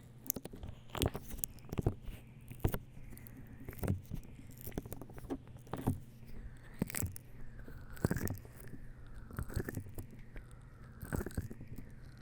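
Soft, sticky tapping and squelching of a honey massage close to the mic, irregular light pats and smacks with faint crackles, quiet and intimate, no speech.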